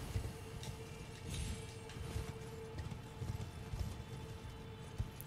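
Horse hooves clip-clop in a steady, rolling rhythm while riding through Elden Ring, with a constant low rumble beneath and scattered brighter game sounds on top. No one speaks.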